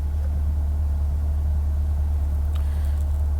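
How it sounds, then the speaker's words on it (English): A 2020 Chevrolet C8 Corvette sits running in track mode with its exhaust wide open, giving a loud, steady, deep idling rumble close by with no speech. "So the track mode, exhaust is still wide open."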